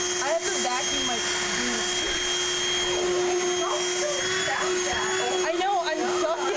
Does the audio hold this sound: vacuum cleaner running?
yes